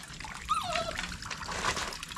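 A dog whimpers and whines in short high-pitched cries, close by, with a faint trickle of water in the background.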